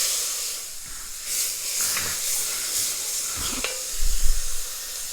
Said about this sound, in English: Add the onion. I'm just going to cook the onion for a couple of minutes.